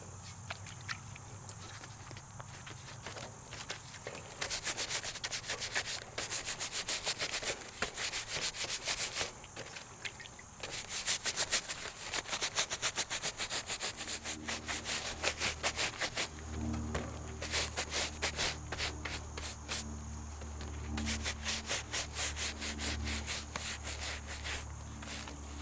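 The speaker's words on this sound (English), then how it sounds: "this split oak basket, It has some clay on it, and I'm just going to give this a good scrub too." A split oak basket caked with clay gets a vigorous scrub, rapid rhythmic brushing strokes rasping close and fairly soft, in bursts with short pauses and no talk.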